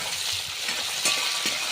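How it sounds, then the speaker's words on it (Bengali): Chopped tomatoes fry with onions in hot oil for a rohu fish curry, giving a brief, close, continuous sizzle with soft stirring and no voices. "টমেটোটা অল্প ভেজে নেব খুব ভালোভাবে।"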